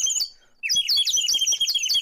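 A handheld bird whistle blown to make an angry bird call: a brief chirp, a short gap, then a rapid run of shrill, wavering tweets, loud and close.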